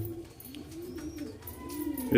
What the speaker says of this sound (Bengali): এই দেখো, এই একটা পায়রা আছে যে আমাকে খুব ভালোবাসে।